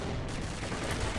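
Dense, continuous gunfire in the Counter-Strike Nexon Zombies video game, loud and unbroken throughout a short burst of game audio.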